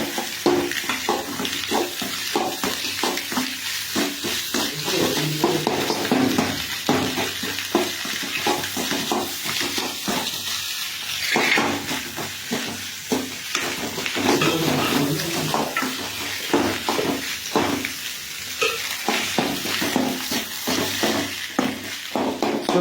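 An egg and rice mixture with lemon is stirred and sautéed in a pan, giving a steady close sizzle broken by repeated scraping strokes of a spoon against the metal.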